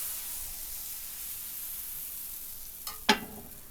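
Steady soft sizzling of pancake batter frying in an oiled pan, a constant hiss, with a couple of brief clicks or taps near the end.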